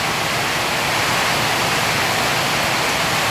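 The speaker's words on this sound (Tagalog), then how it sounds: "Sobrang lakas ng ulan" Heavy rain pours down in Daet, a loud, dense, unbroken hiss of falling water close by with no talk over it.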